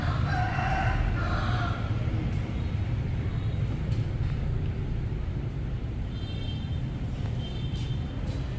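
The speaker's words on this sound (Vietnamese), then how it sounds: "Tiếng gà gáy ha." A rooster crows near a busy morning market in Chau Doc, Vietnam, its call rising briefly in the first seconds over a steady wash of crowd and street noise.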